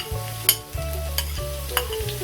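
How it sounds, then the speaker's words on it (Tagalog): Garlic sautéing in hot cooking oil in a pan, a steady close sizzle with a few sharp stirring clinks and scrapes over about two seconds. "mantika ay pwede na nating igisa itong ating bawang"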